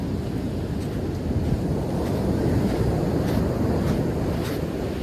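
Ocean surf on the wild west coast of New Zealand, a loud continuous roar of breaking waves mixed with heavy wind buffeting the microphone, steady throughout with no voices.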